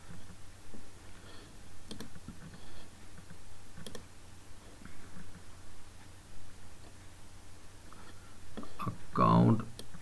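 A computer mouse gives a few sharp, faint clicks at irregular intervals in a quiet room, while a person speaks quietly in between.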